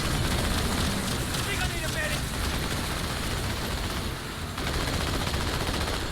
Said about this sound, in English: Those are anti-aircraft guns.